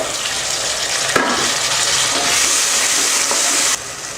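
Steady sizzling and hissing of onion, green chili, garlic and tomato frying in a hot pan, with a couple of soft stirring clicks, then the sizzle drops slightly.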